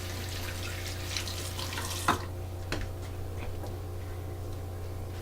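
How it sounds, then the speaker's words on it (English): A kitchen tap runs for hand washing while beet brownies are being made, a steady rushing stream that shuts off after about two seconds, followed by a few faint clicks and near-quiet. "Wash hands because I'm"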